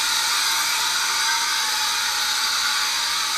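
A small Sky Rover Exploiter S remote-control helicopter flies at full forward speed, its rotor and motor giving a steady, high, close whine with no break and no talking.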